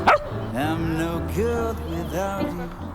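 A dog at an animal shelter open day in Bielsko-Biała gives short yipping, whining barks on command, close by, with faint voices in the background.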